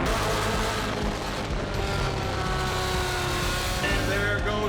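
Pure stock cars roar around a dirt oval during a feature race, engines loud and continuous with overlapping passes, while a commentator talks over the action.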